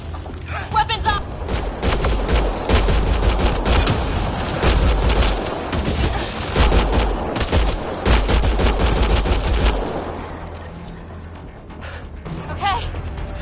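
Dense gunfire from a firefight in Mass Effect: Andromeda, rapid overlapping bursts and shots that are loud and close, with shouted voices over them, before the shooting stops and quieter talk follows.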